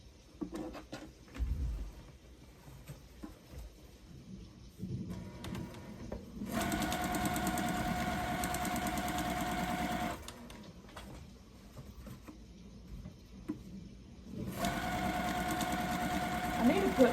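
A home sewing machine stitches a Christmas tree quilt block in two steady, loud whirring runs of a few seconds each. Talk and quiet handling noises come before and between the runs.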